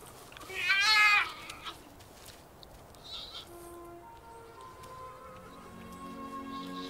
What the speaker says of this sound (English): the young mother's cubs purr with contentment.